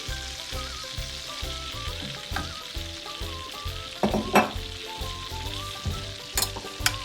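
Butter melting with a little olive oil in a pan for a cabbage and bean dish gives a steady close sizzle and crackle, with a few brighter pops and spatters toward the end.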